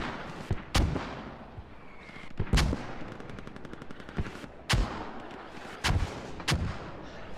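Mortar and gunfire in a video game battle, with several sharp, heavy booming blasts at irregular intervals, interspersed with a rapid machine-gun burst and distant shots.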